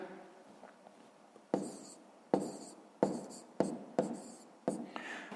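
Numbers are written by hand on paper in a series of about six crisp pen strokes and scratches, close and quiet, spaced under a second apart, with no speech.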